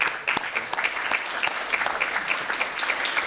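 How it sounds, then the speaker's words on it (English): An audience at a central bank economics conference session applauds the panel speakers with sustained, even clapping that fills the room, fairly close and steady for over three seconds. "can we give a round of applause to all the speakers"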